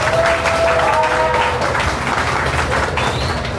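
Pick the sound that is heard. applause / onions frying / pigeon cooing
applause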